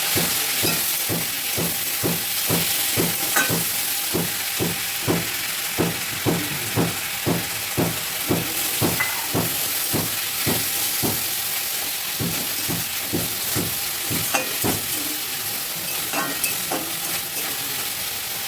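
Spices and potatoes sizzle in a hot pan while a utensil stirs and scrapes them in a steady rhythm, close and continuous.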